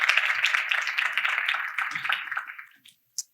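A conference audience claps as a volunteer walks up to join the speaker on stage, a brief round that fades out over about three seconds, followed by a single faint sound at the end.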